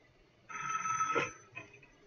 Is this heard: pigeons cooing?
no